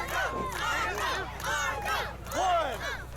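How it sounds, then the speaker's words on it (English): An outdoor wrestling crowd in a park in Tyrone, Georgia roars and shouts for Marko Stunt in rising and falling waves of loud cheering. "This crowd totally getting behind Marko Stunt."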